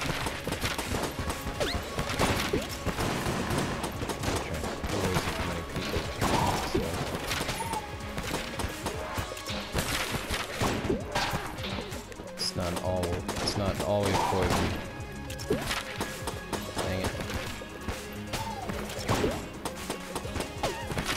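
Gunfire in the video game Enter the Gungeon, with dense, rapid bursts of shots and crashing impacts over game music, and someone talking through much of it.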